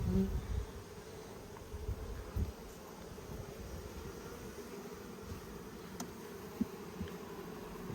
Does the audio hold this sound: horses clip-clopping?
no